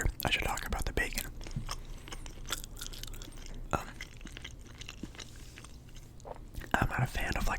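Chewing on Wendy's Baconator bacon at a close microphone, with moist, crunchy bites and mouth sounds running steadily under soft whispered talk.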